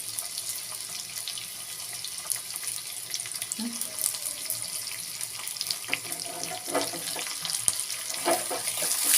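Onion and curry leaves sizzle and crackle after cumin in hot oil, the tempering for a bottle gourd sambar; a steady, fairly soft frying hiss with scattered pops runs throughout.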